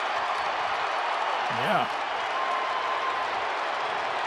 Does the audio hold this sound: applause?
yes